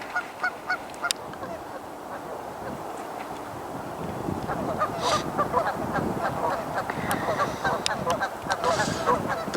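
Geese honking repeatedly, a chorus of calls at moderate distance, growing denser and busier toward the end with some wind in the background.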